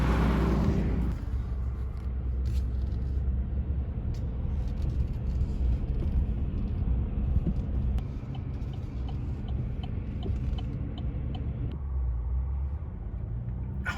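A Case 1070 tractor pulls away with a steady, loud low engine rumble that holds throughout, the diesel drone continuous and close with slight shifts in tone as it gets underway.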